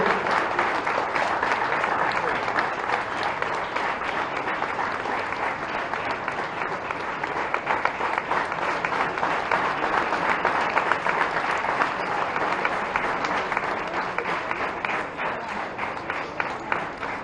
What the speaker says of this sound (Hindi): बिल्कुल ये ताली लग रहा है, यही तेज करते हैं